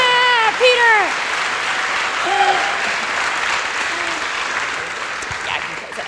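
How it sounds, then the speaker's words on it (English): A conference audience at Layers 2019 gives loud, sustained applause for Pieter Omvlee, a full room of clapping with bright whoops and cheers rising over it early, then settling into steady clapping that eases slightly toward the end. "Keep clapping."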